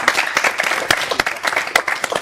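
Studio audience applause on a French-language arts talk show, a short burst of brisk, close clapping from a small crowd with uneven, scattered claps throughout.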